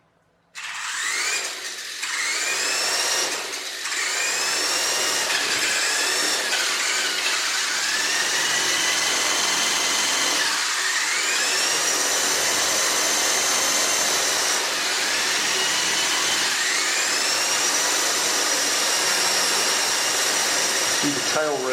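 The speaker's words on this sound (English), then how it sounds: "See, the tail rotor works." The motor and tail rotor of a 2.4GHz RC helicopter, model 9004G, whine loudly and steadily up close, the pitch sliding up and down repeatedly as the throttle changes, with no pauses.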